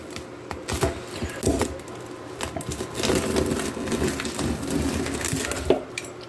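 A knife or cutter crunching through a crispy Tombstone four-meat pizza topped with sausage, beef, pepperoni and Canadian bacon, giving close, irregular crackling and snapping sounds.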